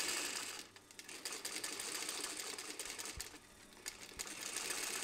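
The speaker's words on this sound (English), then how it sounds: "I recommend adding a stitching line along the edges to prevent the lining from peeling over time." A sewing machine stitches a line along the edges of a dyed leather piece, running as a steady, continuous mechanical whir with small rhythmic fluctuations and no voices.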